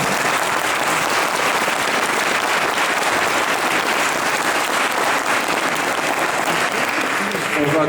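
A Christmas concert audience keeps up loud, dense applause calling for an encore, an unbroken wash of clapping that holds steady and close throughout without pause.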